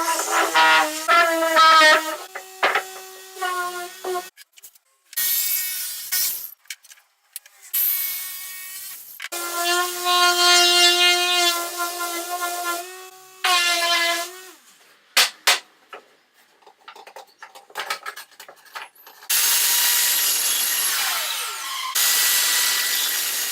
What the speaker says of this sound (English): So let's grab the sander and get started.